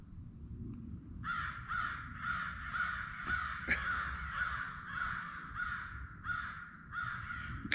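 A flock of crows caws on a winter morning at a snowy campsite, a steady run of loud repeated harsh calls from some distance over low outdoor rumble.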